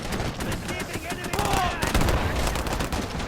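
Gunfire in the WarAlert WWII real-time strategy mobile game, with rapid crackling bursts and machine-gun-like rattles that run on without a break. A voice talks now and then underneath.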